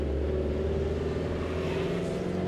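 A camper van engine labours in first gear up a steep mountain road toward Shinkula Top on a Delhi-to-Ladakh trip, giving a steady, strained low drone that holds close and loud throughout.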